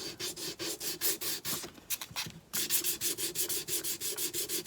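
A small finger sander rasps against wood painted black, roughing up the finish in repeated short strokes with a brief pause midway, close and loud.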